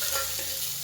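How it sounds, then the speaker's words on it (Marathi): Onion sautéing in hot oil with cumin, a brief close burst of sizzling and stirring, no voices. "चांगला ब्राऊन होईपर्यंत परतून घ्यायचा."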